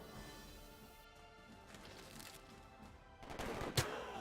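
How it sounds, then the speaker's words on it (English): Riflemen open fire in the Civilization V strategy game, a faint crackle of distant gunfire building into a sharper, louder volley near the end over a quiet background. "Now that we've attacked with our riflemen,"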